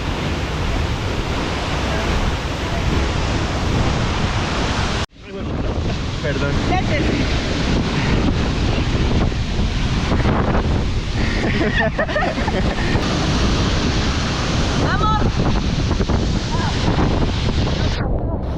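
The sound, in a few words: waterfall water splashing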